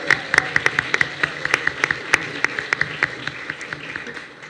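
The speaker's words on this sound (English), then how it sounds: "I think that deserves an applause" Applause from a panel audience for a speaker, with scattered individual claps standing out sharply over a steady patter that thins and fades toward the end.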